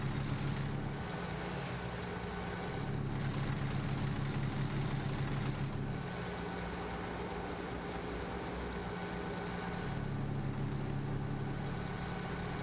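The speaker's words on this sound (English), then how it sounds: "Now you're going to make me listen to the engine." A diesel truck engine idles steadily in American Truck Simulator, a low, even rumble with a faint periodic rise and fall in intensity, quiet and continuous with no talking.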